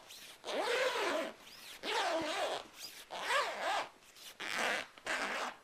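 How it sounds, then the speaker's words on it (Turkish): A zipper is pulled closed on the fabric cover of a 105 cm 5-in-1 photography reflector. It comes as a series of rasping pulls, each about a second long, with short pauses between them and no talk. "şuradan fermuarımızı çekerek tekrar kapatıyoruz"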